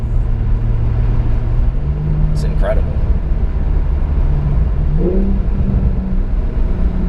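Inside a 2020 Porsche 911 Carrera base (992), the engine rumbles low and steady as the car pulls forward, its tone climbing briefly near the end, while someone talks over it.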